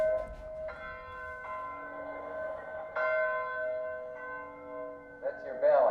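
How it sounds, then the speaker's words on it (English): A bell at Muhammad Ali's old training camp rings out in repeated resonant strikes, each leaving a long ringing tone, steady and moderately near, with a brief noise near the end. "That bell rings every morning at 4:30"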